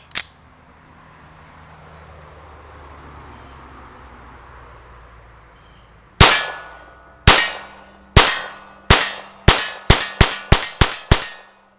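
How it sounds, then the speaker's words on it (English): A Ruger 22/45 pistol firing CCI .22 rounds, heard as about ten sharp shots, each followed by a distinct ring of bullets striking steel targets. They come quickly after an initial single crack and a quiet stretch with insects chirping. "Fired off 10 shots, heard it hit steel 10 times."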